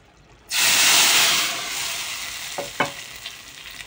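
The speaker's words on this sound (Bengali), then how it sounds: "এই যে ঝাল কিন্তু ভেজে নিচ্ছি ভালো করে, লাল লাল করে।" Fried chili tempering hits red amaranth greens with a sudden loud hiss and sizzle that swells, then slowly fades, followed by a couple of light clinks near the end.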